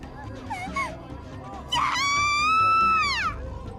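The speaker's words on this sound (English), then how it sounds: "Arimura began to scream, her voice joining the cacophony created by the other screaming students" Students scream at a school festival in the game Chaos;Child. Several shrill, rising cries overlap against a crowd murmur, and one long piercing scream dominates the middle of the clip.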